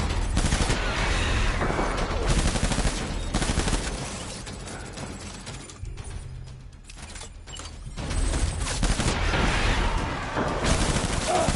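Heavy automatic gunfire in the video game Death Stranding, dense continuous bursts that ease briefly near the middle and then resume, loud and close, with no voices.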